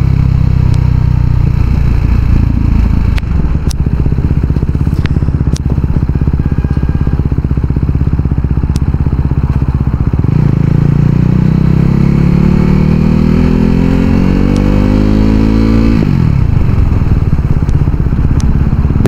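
A KTM RC 390 motorcycle on a morning ride, its engine droning loud and close throughout, settling at a steady pitch, then revving upward through a long rise before dropping back.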